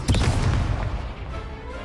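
A heavy booming blast from a Confringo spell in the Hogwarts Legacy video game, one loud close explosion with rumbling low-end that slowly fades over under two seconds.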